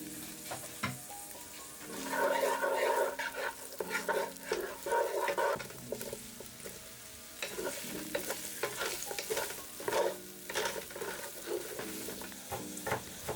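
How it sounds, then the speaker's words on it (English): Chopped onion sizzles in a pot while a utensil stirs it, with soft bursts of frying and clattering scrapes against the pot, fairly quiet and close. "Chop and add half a medium onion."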